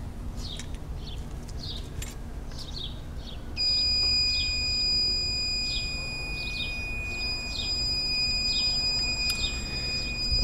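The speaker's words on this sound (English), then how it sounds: "that horrible noise is the fault alarm" A Xantrex AC power inverter sounds its high-voltage fault alarm, a loud steady electronic tone with pulsing beeps starting a few seconds in and continuing to the end, over a low background hum.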